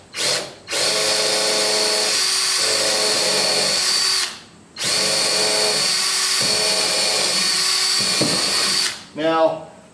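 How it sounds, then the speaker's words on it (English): A cordless lithium battery drill boring a hole with a number 7 bit while building a Biesemeyer table saw fence, loud steady whine in two long bursts with brief pauses, pitch dipping under load. "So I'm drilling this with a number 7."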